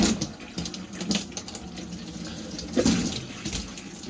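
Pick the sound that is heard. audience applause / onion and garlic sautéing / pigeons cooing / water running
water running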